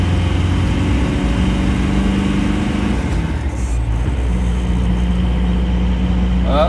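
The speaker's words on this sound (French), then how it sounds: "Là, écoutez, là j'accélère." Car engine revving up with a suspected belt problem, a loud steady drone whose pitch shifts and rises midway, heard up close with no voices over it.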